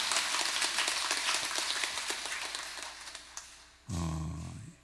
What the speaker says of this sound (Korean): 큰 박수로 감사합니다라고